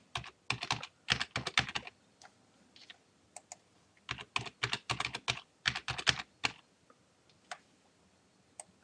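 Password being typed on a computer keyboard during account registration on a classifieds site: bursts of quick, close key clicks separated by short pauses, no talking.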